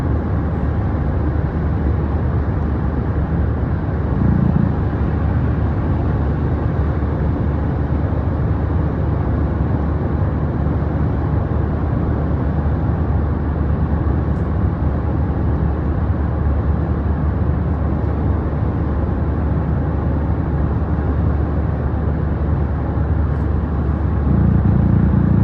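Steady low road rumble of a car interior while driving, a continuous broadband drone with no talk, holding an even level throughout.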